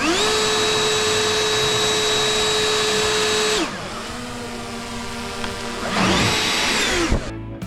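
A Cobalt 80-volt max brushless leaf blower runs loud and close with a steady high whine, then its pitch drops, and it revs back up near the end before cutting off.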